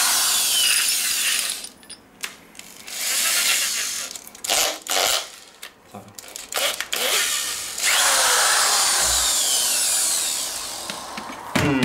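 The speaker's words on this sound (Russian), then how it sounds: "Беру самое большое сверло, так что как пластик сверлить" An electric drill with a large metal drill bit bores into plastic on a Kugoo S2 electric scooter, with loud whirring bursts starting and stopping, sharp grinding bites, and handling clatter between runs.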